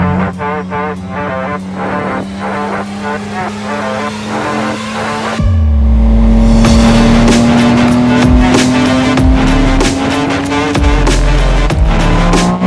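Yamaha MT-09 motorcycle in sports mode, engine revving hard in first gear on the street: a loud, sustained high-pitched drone that climbs steadily in pitch, with sharp throttle blips and a heavier roar kicking in partway through.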